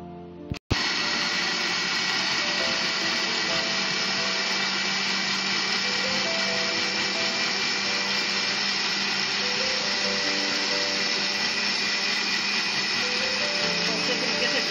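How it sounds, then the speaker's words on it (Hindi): After a brief click, a blender whirs loudly and steadily blending softened cooked tomatoes for the whole stretch, a dense continuous motor roar. "अब इसको हम ब्लेंडर में डाल के ब्लेंड करेंगे।"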